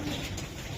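Racing pigeons coo at a pigeon farm in a brief, dense burst of low murmuring calls over steady broadband background noise.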